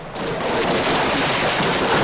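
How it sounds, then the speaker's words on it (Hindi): Fireworks crackling outside a BJP office in Ranchi during celebrations of an election win, a dense continuous rattle of bursts, loud and close, with no pauses. "जमकर यहाँ आतिशबाजी हो रही है।"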